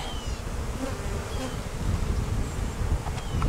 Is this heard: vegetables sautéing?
no